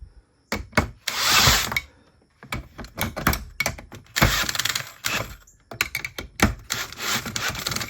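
Power tool driving and tightening screws into a wood dolly fitted with a Snap-Loc steering kit, heard as a series of short whirring bursts with brief pauses between them, close up and without speech.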